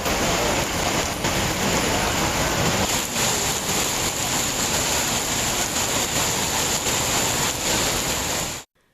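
Heavy monsoon downpour at night in Tamil Nadu streets, a dense, steady roar of rain drumming on surfaces, loud and continuous throughout with no voices.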